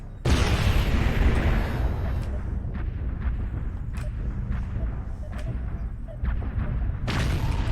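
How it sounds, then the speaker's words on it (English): An artillery strike in MechWarrior Online pounds down as a dense, continuous roar of explosions, with repeated booms and crackling impacts layered over one another, loud and sustained throughout. "Artillery strike online."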